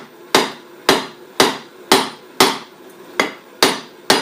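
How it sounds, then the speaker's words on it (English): Eight sharp, ringing hammer strikes on red-hot metal while forging a carving chisel, at a steady, even pace, loud and close with no talking. "start hammering."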